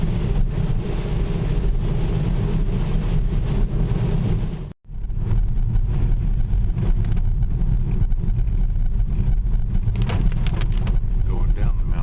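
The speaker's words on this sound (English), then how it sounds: "there's fog and rain on the way up." Rain and wind roar steadily against a car driving up a foggy volcano mountain road, a dense broadband wash with a brief dropout midway, under occasional voices.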